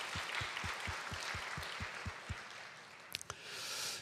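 Congregation applauding during a church Sunday worship service, a broad steady patter of many hands that holds for several seconds, with a few low thumps mixed in and no talk over it.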